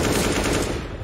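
Rapid gunfire in a Counter-Strike professional match, a dense, loud, close burst of overlapping shots lasting about a second.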